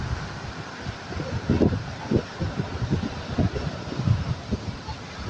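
Strong gusting wind from Typhoon Carina buffets the microphone in loud, irregular bursts over a steady rushing roar.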